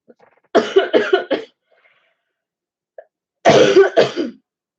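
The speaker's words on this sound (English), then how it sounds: "Oh, these coughs." A person coughs in two clusters, first three or four quick harsh coughs, then after a pause a second loud burst of coughs, close and alone in a quiet room.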